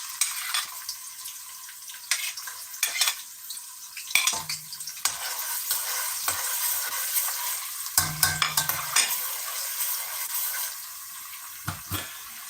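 Onions frying in a pan for fried rice with hot dog, a soft crackling sizzle running underneath repeated scraping stirs and a couple of sharp utensil knocks against the pan, close and with no talking.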